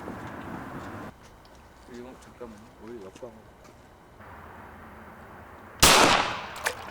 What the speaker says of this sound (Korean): 야생 뉴트리아를 향한 첫 총성이었다